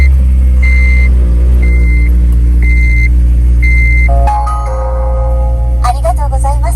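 A Honda Civic Si drives along a desert road with a steady, loud low engine and road drone throughout, while repeated electronic chime tones sound over it and the pitch shifts partway through.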